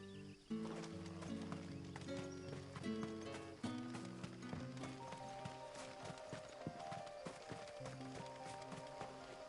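Horse hooves clip-clop steadily while riding in the Final Fantasy XVI video game, even repeated footfalls under swelling orchestral music.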